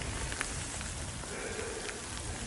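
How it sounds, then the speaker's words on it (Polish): Steady rain falls during a mountain hike in the Beskids as a thunderstorm arrives, a continuous even hiss of drops with faint occasional patters, no talk. "Ale w końcu deszcz mnie złapał."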